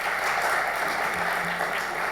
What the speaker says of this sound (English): let's have another round of applause, and for ourselves, for the great work that we're beginning together